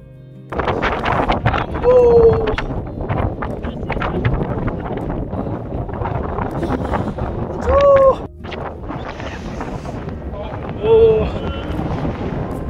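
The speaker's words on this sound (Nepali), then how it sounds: "डरलाग्दो हावा" Strong gusting wind buffets the microphone on a mountain trek along the Sandakphu route, a steady roaring rush with louder surges, while people talk through it.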